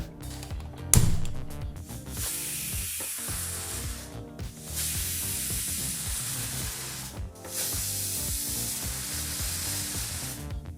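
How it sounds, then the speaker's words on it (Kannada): A pressure cooker cooking chickpeas for kadalekalu usli lets out long, steady hissing steam blasts, three loud bursts with short gaps, over background music. "ಹೀಗಿಲ್ಲಿ ಕುಕ್ಕರು 3 ವಿಸಲ್ ಬಂದಾಯಿತು."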